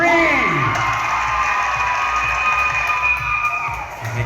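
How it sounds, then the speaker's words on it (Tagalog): A loud crowd cheers and shouts at a contestant showcase at Victoria Place Pavilion in Potrero, Malabon, with high voices and whoops carrying steadily through the whole stretch. "May kasama pang hiyawan."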